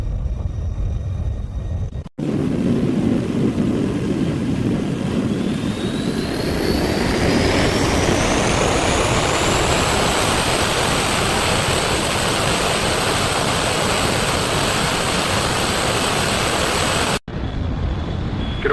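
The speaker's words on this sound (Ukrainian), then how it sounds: "Зліт дозволено" A small aircraft, wind calm from the east, powers up for takeoff and climbs away, its loud continuous engine roar holding steady with a rising whine, the noise close and unbroken throughout with no talking.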